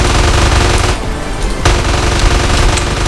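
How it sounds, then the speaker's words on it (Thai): Machine gunfire in the video game GTA San Andreas, loud dense rapid bursts that continue almost unbroken for a few seconds, with a brief dip partway through. "กูยิงงี้เลยฮะยิงแม่งไปเรื่อยเงี้ย"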